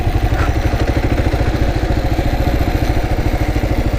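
A Kawasaki KLR dual-sport motorcycle at low throttle while riding slow figure eights, a steady, close, rapid single-cylinder thumping putter at an even pace with no talk.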